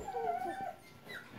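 An Airedale Terrier puppy gives a short, high, wavering whimper up close, fading out after about a second.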